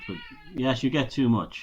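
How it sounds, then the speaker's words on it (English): Benny the cat meows insistently for attention, a few short meows mixed with a man's speech, heard at close range in a room. "Now that's my cat Benny in the background."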